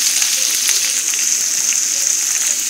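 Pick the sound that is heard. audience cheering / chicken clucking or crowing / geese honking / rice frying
rice frying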